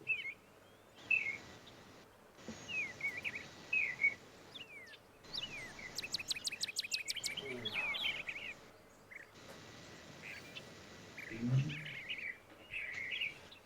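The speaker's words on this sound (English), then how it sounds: "Beautiful birds" Birds chirp and sing in repeated bursts of tweets and trills, fairly faint outdoors, with short pauses between phrases and no talk.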